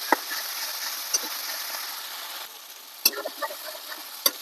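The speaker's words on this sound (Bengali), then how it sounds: "সব মশলার সাথে ভালো করে কষিয়ে নেব।" Spice paste with tomato and ground black pepper being stirred and fried in oil for a Bengali katla fish with poppy seed dish, a steady soft sizzle broken by a few sharp scrapes of the spoon.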